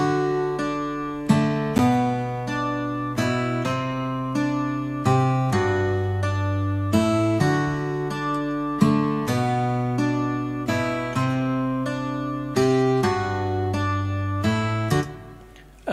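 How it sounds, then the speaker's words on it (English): Picked acoustic guitar opens a home-studio prog rock piece, two guitars panned hard left and right playing a steady flowing pattern of ringing plucked notes and chords, clear and close, with no voices. "just to start us off is a nice acoustic,"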